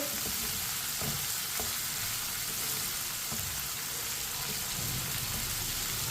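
Green chillies and tomatoes frying in a pan for bhindi fry, a steady loud sizzle throughout with occasional soft knocks of a spoon stirring the mixture.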